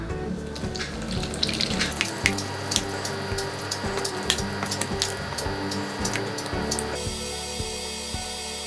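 Hot double cream, brought nearly to a boil, is poured over 200 grams of dark chocolate. It makes a steady, close-up liquid pouring noise with small clinks, then stops near the end.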